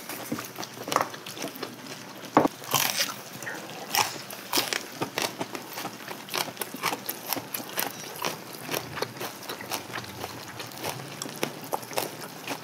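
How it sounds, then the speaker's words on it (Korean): Crunchy bites of fresh pak choi geotjeori, a quick kimchi-style salad, eaten close up, with rapid, repeated crisp snaps and chewing crackles throughout, without any talking. "더 아삭아삭 거리는 것 같아."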